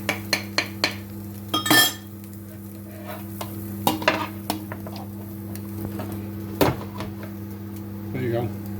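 A Spanish-style omelette made with cabbage in place of potato cooks in a pan with a soft sizzle, while sharp clinks and knocks of utensil against pan ring out and a steady hum runs underneath.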